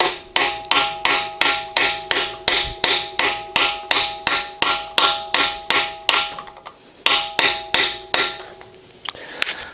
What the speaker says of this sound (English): Then you take a hammer socket with an extension and knock it down.